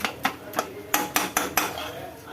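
Metal spoon scraping and clanking against an iron kadai while masala puffed rice is stirred, a run of sharp, close, irregular strikes, several in quick succession, with no talking.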